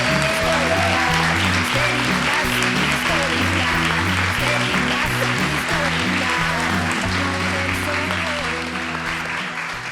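A studio audience claps warmly for an arriving guest on a talk show, the applause sustained and dense for the whole span, underlaid by a steady repeating musical pattern.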